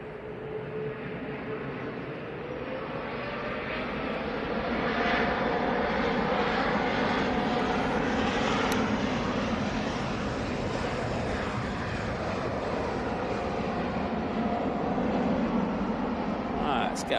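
Jet airliner engines roar steadily at Manchester Airport, a broad sustained rumble swelling slightly as the aircraft passes, with faint talk beneath.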